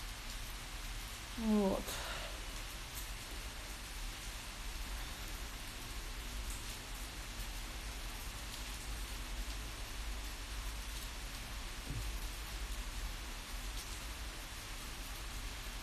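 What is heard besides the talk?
heavy rain pouring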